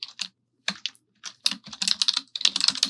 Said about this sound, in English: I can type in the commands I want.